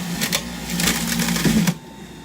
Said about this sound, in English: And then we'll turn the juicer on. It's going to be a little loud, but not too loud.